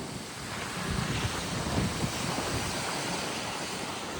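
Sea waves wash onto the coast near Tajpur as a steady broad roar of surf, mixed with heavy wind rumble on the microphone and no voices.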